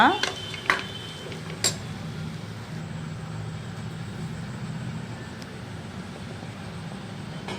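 Cooked chitranna rice spooned into a serving bowl: a few clear scrapes and clinks of a utensil against a vessel at the start, followed by a steady low background hum with only faint scraping.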